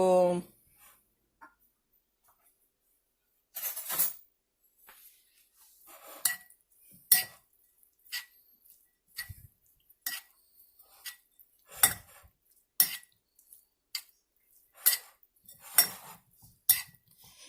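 Chicken filling being mixed in a bowl, with irregular spoon clinks and scraping knocks against the dish, close but fairly quiet, following a brief voice at the start.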